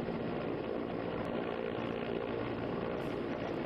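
An Indian Air Force rescue helicopter hovers over the Tawi river during a rescue, its rotor and engine making a steady, dense broadband roar throughout, close and unbroken, with no voices.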